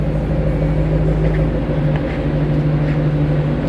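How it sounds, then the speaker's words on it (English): A 2009 Shelby GT500 Mustang convertible with a Ford Racing exhaust idles with a loud, steady, throaty low rumble, heard up close and alone without any talk. "Extremely nice sounding, throaty car just sitting there idling."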